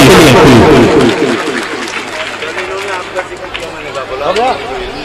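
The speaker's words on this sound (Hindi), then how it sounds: "एक बार चाहता हूँ कि फिर से आप जोरदार तालियां बजाएं हमारे इस मेहमान के लिए" Audience applause for the chief guest at a mushaira, the Urdu poetry gathering Jashn Ayub Wafa in Niyauj, 2018, loud at first and slowly thinning, mixed with crowd murmur and cheering.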